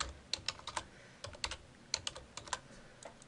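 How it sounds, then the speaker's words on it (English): An equation is typed on a computer keyboard in quick, irregular bursts of light key clicks, quiet and close, with no talking. "typing this equation in."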